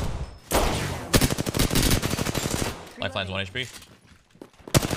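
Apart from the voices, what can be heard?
gunfire in video game Apex Legends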